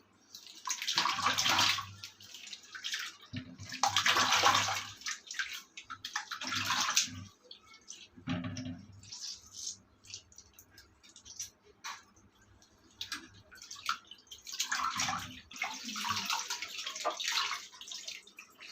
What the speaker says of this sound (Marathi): स्वच्छ पाण्याने धुवून घ्यायचे ही आतडी आपण पिळून घ्यायची म्हणजे आतली जी घाण असेल ती पूर्णपणे बाहेर येईल